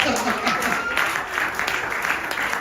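Church congregation applauding during a sermon, a dense, steady clatter of many hands filling the space at close range.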